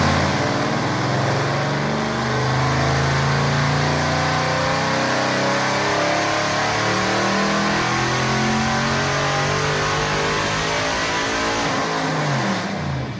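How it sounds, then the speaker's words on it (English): A Mercedes C63 AMG sedan engine revs hard, its deep, loud roar rising and falling in long sustained sweeps with no voices over it. "Next is the C63 AMG. They sound brutal"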